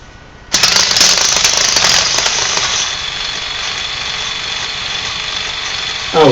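A fischertechnik motor drives a set of plastic gears, giving a loud, steady mechanical whir and rattle that starts abruptly and runs continuously at close range, easing slightly partway through.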